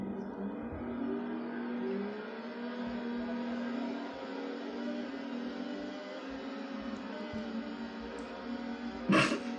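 Race car engines in the video game FX Racer whine steadily and fairly faintly, rising slowly in pitch as they accelerate with automatic gear changes. A brief clatter sounds near the end.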